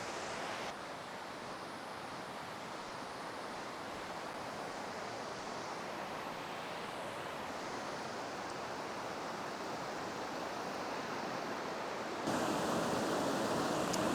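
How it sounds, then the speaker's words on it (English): Steady, dense rushing of a fast-flowing stream in the Yorkshire Dales, a continuous close roar of water with no breaks, slightly louder toward the end. "Apologies about the noise, I'm literally sat next to some rushing water."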